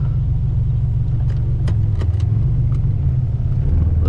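A 1986 Buick T-Type idles with a steady, loud low engine rumble, the pitch shifting slightly as it is put in drive and begins to pull away, with faint clicks on top and no talk.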